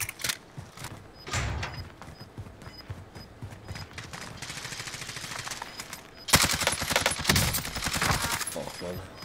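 Automatic weapon fire in Call of Duty: Modern Warfare Warzone, with rapid bursts and scattered shots that come in clusters. A louder, denser volley starts near the end. Faint talk sits underneath.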